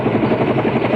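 A military helicopter ferrying guns and supplies into a dusty field position roars loud and close, its rotor thudding in a steady throbbing pulse with no other sounds standing out.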